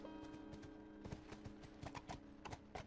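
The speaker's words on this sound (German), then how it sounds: "wir reiten jetzt hier zu zweit munter durch die Gegend" Horse hooves clip-clop at a steady riding rhythm in The Last of Us, with two riders on one horse, the game's ambient drone running underneath and no talking.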